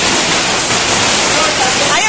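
Floodwater rushes into a house in the countryside during a flood, a loud, steady broadband roar of churning water filling the whole clip without a break.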